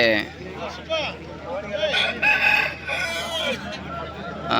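A rooster crows loudly nearby in long, rising and falling calls, with some clucking and background noise around it, at a livestock market in Krishnagiri, Tamil Nadu.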